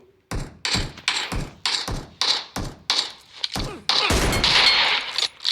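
Repeated gunshots in a shooter video game, loud close bursts fired in a steady rhythm of about seven shots, ending in a longer sustained volley, with no talk over them.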